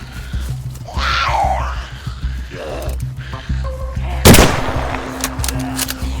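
Gunshots in a DayZ fight, with one sharp, close shot standing out among game ambience, a swooping tonal effect and low rumbling background.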